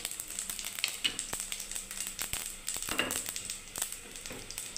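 Dry red chillies and whole cumin seeds crackle in hot oil as a tempering for boiled masoor dal, a steady close sizzle broken by sharp pops and spits, with no voices.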